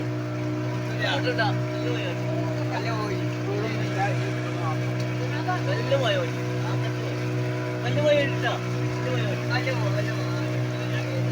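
A motorboat engine drones steadily on the water as a constant low hum. Voices talk over it throughout.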